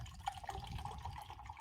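Canned nitro stout is poured hard into a glass, a low steady gurgling rush of liquid that is quiet and continuous for under two seconds.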